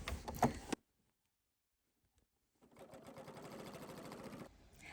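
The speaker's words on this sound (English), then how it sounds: "then sew again with the machine" A sewing machine runs in two bursts: a short stitch, a pause of silence, then a longer steady run of rapid mechanical needle chatter.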